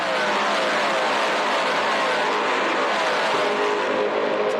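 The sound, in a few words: S5000 race cars at Tailem Bend Motorsport Park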